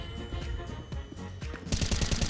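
Rapid gunfire in the Counter-Strike video game: a quick run of sharp shots, then a denser burst of automatic fire near the end, fairly close and without talk.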